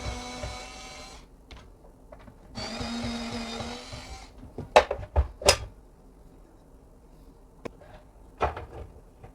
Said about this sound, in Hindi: इसके ऊपर के कवर को हटाने के लिए इसके आगे 2 स्क्रू दे रखे हैं, ये इनको हमें खोलना होगा।